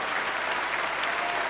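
A theater crowd at the Teatro Municipal claps for pianist Claudio Arrau after his concerto performance, sustained thick applause at an even level throughout.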